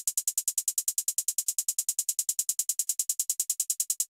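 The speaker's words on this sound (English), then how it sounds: "In emo plug beats, there's a widely used technique that's known as hi-hat spam." Hi-hat spam in an emo plugg beat, very rapid evenly spaced crisp hi-hat hits repeating without pause, bright and steady with no other instruments.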